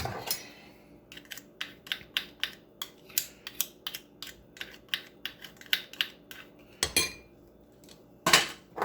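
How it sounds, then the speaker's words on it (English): A spoon stirs a black pepper and oyster sauce mixture in a bowl, making a quick run of sharp, evenly spaced clicks and taps, louder clanks near the end, with no speech. "We're going to stir it very well"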